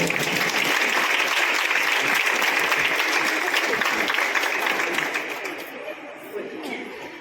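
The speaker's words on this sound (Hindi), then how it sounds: "तो हम लोग सिस्टर के लिए ताली बजाएंगे।" An audience at a Christian testimony gathering applauds to welcome a sister, dense clapping holding steady for several seconds before thinning out, with some chatter mixed in.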